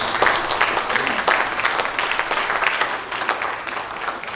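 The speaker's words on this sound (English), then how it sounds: "Everybody give this panel a round of applause" An audience applauds a panel: a loud, dense burst of clapping from many hands that holds steady, then gradually thins and softens toward the end.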